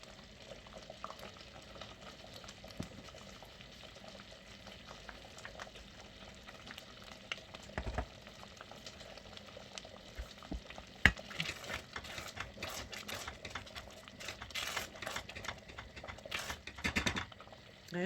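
Homemade strawberry jam with sugar stirred in a pot, soft continuous bubbling and a quiet simmer under repeated scraping and clicking of the spoon against the pot, growing busier toward the end.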